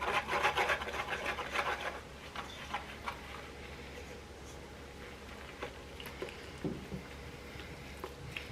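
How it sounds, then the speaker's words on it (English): Orange poppy seed cake batter, wet ingredients folded into dry, whisked by hand: quick rhythmic scraping strokes sound close and lively at first, then turn sparse and quieter with occasional light taps. "we will pour the wet ingredients into the dry gradually and mix. All you have to do is whisk."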